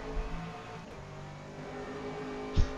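GT3 race car engine in a rain-soaked racing video game at the Red Bull Ring, a steady mid-level drone with a short, sharp thump near the end where a gear shift is missed.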